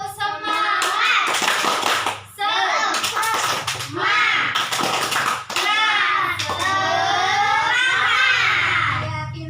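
Young children in a classroom perform a rhythmic 'tepuk semangat' spirit clap, bursts of hand claps mixed with loud chanting voices of kids and an adult leading them.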